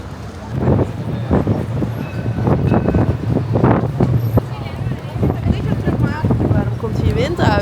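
Wind on a Paris street near the Moulin Rouge, heavy rumbling buffeting across the microphone, with a loud gusty roar throughout and a voice talking over it.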